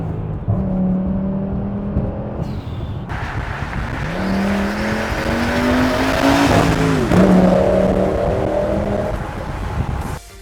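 An Audi RS6 with a V10 engine idles and revs up and down, loud and close, its note rising and falling steadily before tailing off at the end.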